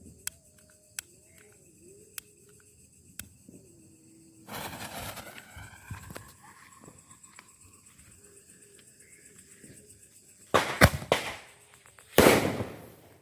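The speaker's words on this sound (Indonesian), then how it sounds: "Kita nyalakan yang warna hijau Small Festivalnya." After a hiss and a rising whistle, several sharp bangs and crackles burst outdoors from a green Small Festival firework, the loudest coming near the end.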